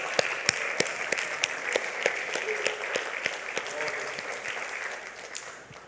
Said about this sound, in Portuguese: vamos bater palmas se querem bater